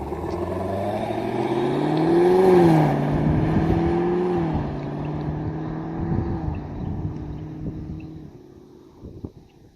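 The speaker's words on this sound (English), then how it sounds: "now cruise away in stealth mode" A 2019 Chevrolet Camaro SS with active exhaust in stealth mode pulls away at a cruise, its V8 drone rising briefly to a peak and then easing off as it fades into the distance, with no talking.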